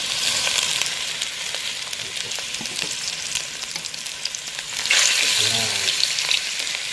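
Chicken pieces drop into a pot of sautéed aromatics for tinola and fry with a loud, steady sizzle that swells as more goes in, while someone says a brief word over it.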